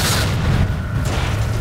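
Explosions in the first-person shooter F.E.A.R. form a continuous loud, heavy rumble with deep booming bursts that fill the whole moment, with no talk over it.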